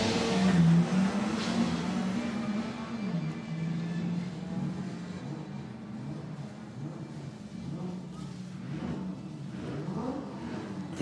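Drag racing cars accelerate down the strip at the MDRA Haltech November Finals, a sustained engine roar that is loud at first, eases slightly midway, and then swells again, with possible faint commentary underneath.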